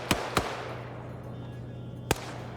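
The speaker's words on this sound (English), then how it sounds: "More gunfire going across." Several sharp gunshots crack in a competitive shooting game match, two quick shots close together followed by a single one after a pause, over low background noise.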